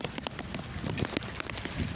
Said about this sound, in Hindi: बारिश भी देखें कुछ हल्की हो जाती है, कभी तेज़ हो जाती है, फुल तेज़ बारिश है।